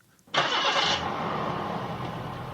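A car engine in a radio drama cranks and catches after failed starter attempts, bursting in loud and then settling into a steady, close idle that runs on alone.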